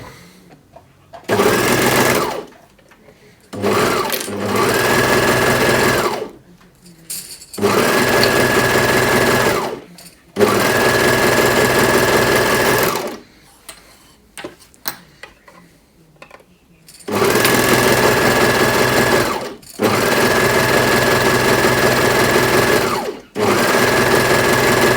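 A sewing machine stitches waffle-weave fabric for a plus size dressing gown in several loud, close bursts of rapid mechanical whirring, separated by short pauses and a few quieter stretches of lighter clicking.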